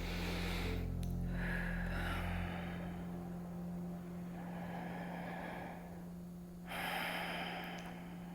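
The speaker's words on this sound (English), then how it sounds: "Three more breaths." Slow, deep breaths during a yoga pose, heard close and quiet as long drawn inhales and exhales, with a steady low hum underneath.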